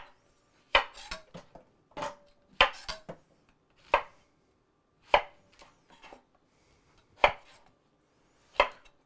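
Zucchini is cut into cubes on a board, a knife striking in a slow, irregular run of about ten close, crisp chops with short gaps between them and no talking.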